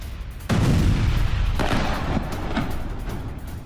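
Heavy booming blasts from US strikes in southwest Iran during wartime: a loud, sustained rumbling detonation erupts after a brief quiet, followed by further thuds and crackling roar that stay loud to the end, with no voices.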